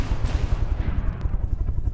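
In the game From the Depths, a shell strikes close in front of a cannon, heard as loud, rumbling rapid-fire blasts and impacts crowding together throughout, with no voices.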